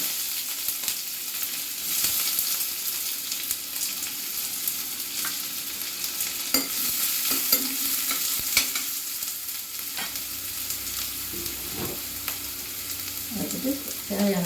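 Onions sautéing in oil in a heavy pan, a continuous soft sizzle with repeated scraping and stirring clatters from a spoon, close and without talk.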